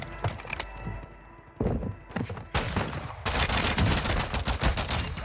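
Gunfire and sniper shots from a shooter video game, with repeated sharp reports and thuds over about five seconds. The shots grow denser and louder toward the end, and no one speaks.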